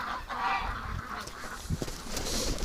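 Muscovy ducks in an outdoor pen give honking, goose-like calls, moderately close, with rustling movement and no speech.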